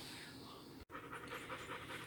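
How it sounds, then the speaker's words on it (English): A dog pants quickly and rhythmically nearby, a steady breathy huffing with a brief gap partway through. "it's my dog panting"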